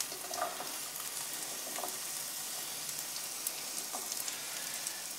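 Garlic frying in a pan for chashushuli, a Georgian beef and veal dish, giving a steady close sizzle with soft crackles throughout and no talking.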